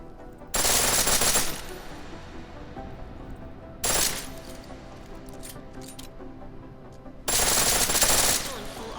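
Rapid full-auto pistol fire in the video game Deus Ex: Mankind Divided, three loud bursts of fast, crackling shots, the first and last long and the middle one short, with quieter gaps between.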